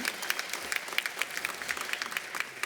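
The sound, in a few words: audience applause at commencement ceremony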